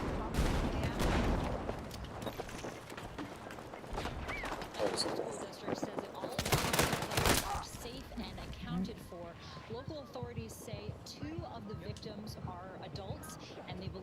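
Rapid bursts of video game gunfire crackle through a busy mix, with heavy volleys around the middle and scattered shots later, partly under a talking voice.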